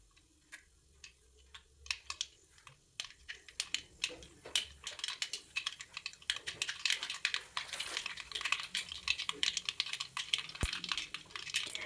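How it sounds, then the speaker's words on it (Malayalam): Half a tablespoon of mustard seeds popping in hot oil for a Kerala green gram curry, sparse faint ticks that grow into denser, louder crackling pops. "കടുകൊന്ന് പൊട്ടി വരട്ടെ."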